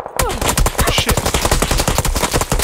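PUBG gunfire: a loud, close burst of rapid automatic shots cracking in a steady rhythm for nearly three seconds, with no talk over it.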